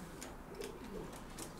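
Three female pigeons in a cage coo softly, with a few low murmuring coos and faint clicks spread across the moment, quiet and close by, with no voices.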